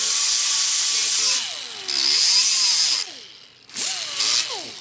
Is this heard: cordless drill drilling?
yes